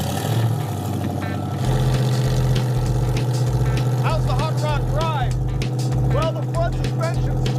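A Ford Model A hot rod is being driven, its low engine rumble droning steadily throughout, close and continuous, with voices talking over it.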